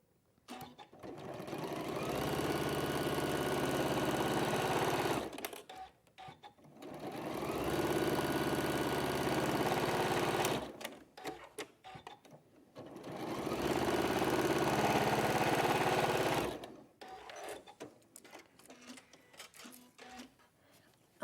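A sewing machine stitching down the two sides of a bag lining at normal stitch length runs in three long steady bursts of about five seconds each, close and even, with short pauses and handling noises between runs.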